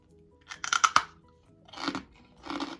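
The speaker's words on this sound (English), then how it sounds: "Look at that marshmallow. They are crunchy for sure." Crunchy marshmallows are chewed close to the microphone in three crisp crunching bursts: a sharp cluster of bites, then two softer chews after a short pause, with quiet surroundings.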